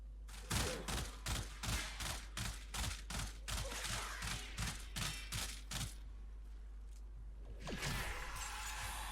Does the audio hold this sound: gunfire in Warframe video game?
yes